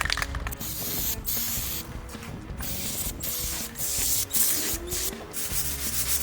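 Steady rhythmic hand sanding of a primer edge on a pickup truck with 320-grit paper, a dry scratchy rubbing with short strokes and brief pauses, close to the microphone.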